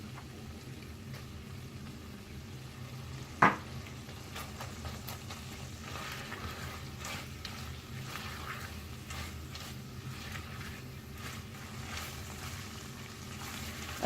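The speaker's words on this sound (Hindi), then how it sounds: "जब पानी खुश्क हो जाए और गोश्त गल जाए तो आप इसमें अदरक लहसुन डालकर अच्छी तरह से भून लें।" Beef frying in a pan with ginger and garlic after the water has dried off and the meat has turned tender, kebab preparation, giving a steady low sizzle and crackle throughout with one sharp knock of utensil on pan.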